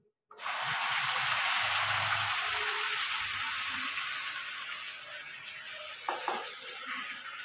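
Ginger, garlic and onion paste hits a pan for coconut potato dum with a sudden loud sizzle, then settles into a steady bright hiss over low flame, with a couple of faint clinks near the end.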